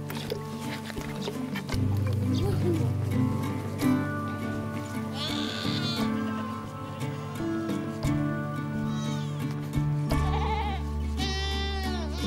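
Goats bleat repeatedly at a nomadic spring camp where cashmere goats are herded, several loud nearby calls over a steady background hum, with a voice speaking at times.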